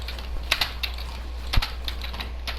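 Computer keyboard keys click lightly and irregularly during a building game, a scattering of quick taps with one sharper press, close but faint over a low background hum.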